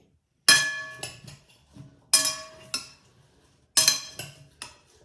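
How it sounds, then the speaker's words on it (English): Metal silverware tossing and mixing a salad, giving three loud, close bursts of clinking and scraping, each followed by a few softer clinks, with no talk. "at the very end, we can use silverware to toss and mix in the salad with everything"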